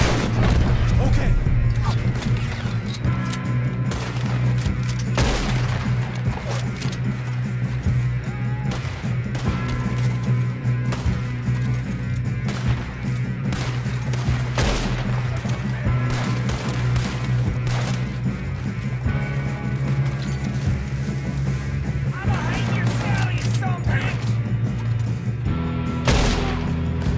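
Heavy gunfire in Red Dead Redemption 2, with repeated sharp shots and booming blasts crackling through a dense shootout for the whole stretch, loud and close under a droning background and occasional voices.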